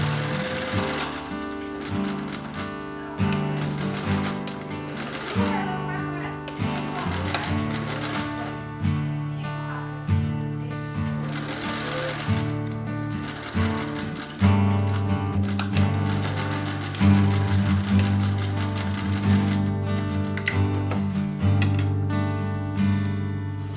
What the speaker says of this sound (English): redo this hem, and sew it down.